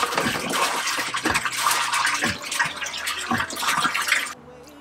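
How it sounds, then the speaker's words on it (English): Water running into an RV or camper van water tank, a loud continuous gushing and splashing that cuts off near the end, with no talking. "I put some water in the tank."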